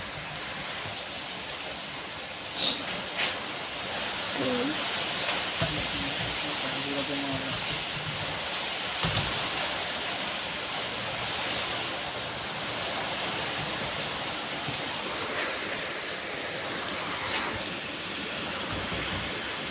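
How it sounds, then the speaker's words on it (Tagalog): Steady heavy typhoon rain in Tanauan City hisses as a dense continuous wash, with a few faint voices and bumps underneath. "Grabe, ulan na oh."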